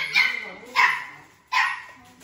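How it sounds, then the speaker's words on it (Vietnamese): A dog barks three times in a close, loud sequence of sharp barks with short gaps, alone without talk. "nó thấy người là sủa liên tục à"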